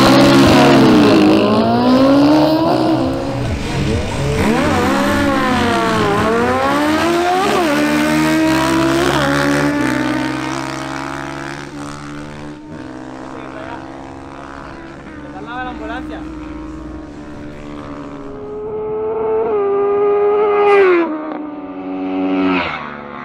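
A Suzuki GSX-S750 and a Honda CRF450R drag racing in Barranquilla, engines screaming loudly through rapid gear shifts with rising and falling pitch, then fading before another surge near the end.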